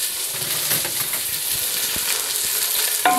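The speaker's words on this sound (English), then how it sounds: "We have to prepare the pan and put oil. Then we are going to fry our ingredients." Onion and red pepper fry in oil in a pan, giving a continuous bright sizzle with soft stirring scrapes and a few clinks near the end.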